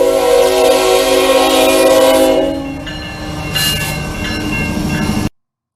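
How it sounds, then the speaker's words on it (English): A freight train led by a Kansas City Southern GEVO locomotive passes, its horn blaring loudly before fading into the rumble and rhythmic clatter of rolling cars. "it has a Kansas City Southern New Mexico Gevo in the front, number 4754, followed by the Gray Ghost"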